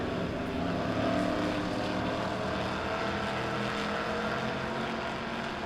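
Pure stock race cars roar past together at Springfield Raceway, a steady loud engine drone that holds throughout with no break, like a pack of cars at full throttle down the front stretch.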